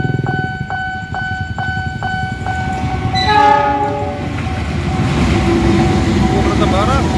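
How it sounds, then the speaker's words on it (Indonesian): A train sounds its horn in repeated bursts at the JPL 46 Pondok Jati level crossing, then rumbles loudly past close by as the wagons roll through, with faint voices underneath. "Ini ada kereta api, kayaknya kereta api Probo ini kayaknya"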